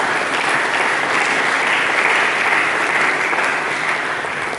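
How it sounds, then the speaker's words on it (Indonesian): A church congregation claps steadily for several seconds. The applause is dense and even, filling the room, with no voices above it. "Berikan tepuk tangan bagi Yesus."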